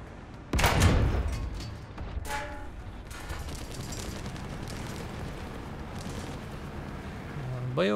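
An ammunition rack detonates inside a tank in the War Thunder video game, a loud sudden blast followed by a long rumbling roar, with a player talking over parts of it.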